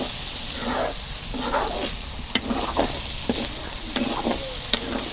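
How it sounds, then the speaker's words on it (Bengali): Chickpea bhaji frying in a pan, a steady sizzle throughout with repeated scraping stirs of a spoon and a few sharp clinks against the pan, close and without talk. "এটা বুট ভাজি"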